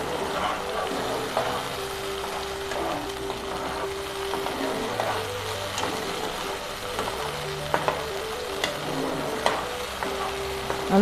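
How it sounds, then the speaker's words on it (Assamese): A spice mixture with nigella seeds fries in hot refined oil, giving a soft, continuous sizzle with occasional stirring scrapes, fairly quiet and close, with a faint low hum beneath. "এইখিনি অলপ ভাজি লওঁ।"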